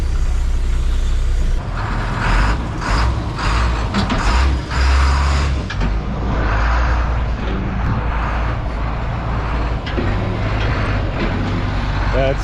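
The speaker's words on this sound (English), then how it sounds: "That's a bus right there." A bus drives past outdoors, its heavy engine rumbling steadily for several seconds with a brief hiss like an air brake, while people nearby talk over the traffic noise.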